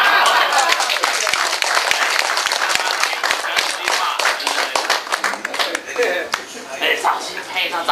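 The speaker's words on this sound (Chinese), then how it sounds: "那我们现在呢掌声鼓励" Guests at a Taiwanese chamber of commerce thanksgiving dinner banquet in Toronto applaud, with crisp individual claps up close that thin out toward the end, while people talk in the background.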